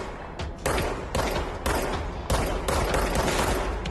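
Rapid video-game gunfire from shooting enemies, loud bursts of dense firing in repeated waves with brief lulls between volleys, filling the scene with no voices.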